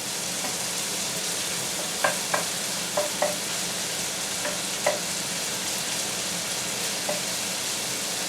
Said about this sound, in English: So that's starting to sizzle away nicely.